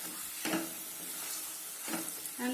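A spatula stirs a cooking banana and sugar mixture for banana barfi in a pan over steady sizzling, with three distinct scraping strokes standing out against the constant frying hiss.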